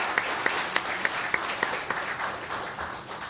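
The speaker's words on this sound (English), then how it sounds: "Let's give them a nice round of applause." An audience applauds at an environmental leadership awards ceremony, producing a steady wash of clapping with a few distinct sharp claps near the start, moderately loud and fading slightly toward the end.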